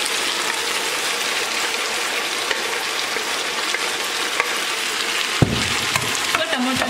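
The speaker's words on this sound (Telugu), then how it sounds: "ఇప్పుడు నేను 2 టమోటాలు వేసుకుంటున్నాను 1 కిలో చికెన్కి 2 టమోటాలు" Chicken curry sizzles and fries steadily in a pan as two tomatoes go in, a continuous close crackle with a brief stirring clatter near the end.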